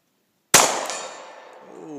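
A pistol round strikes a steel gong 65 yards away, giving one sharp metallic clang that rings out and slowly fades, heard alone after silence.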